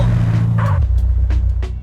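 A car's engine in GTA San Andreas, Japanese version, drops from a loud rev to a lower idle as it drives over pedestrians, with a few short muffled thumps and no crunching impacts.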